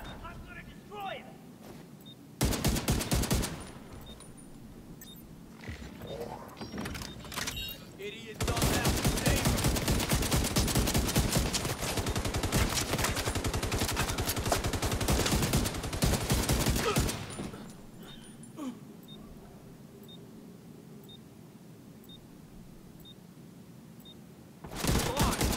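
Sustained bursts of rapid automatic gunfire in the Dark Zone of the video game The Division, loud and dense in two long volleys with shorter bursts and quieter gaps between, game ambience underneath.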